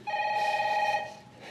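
A telephone bell rings once, a clear, bright electronic trill lasting about a second that fades as it ends, close by with no talk over it.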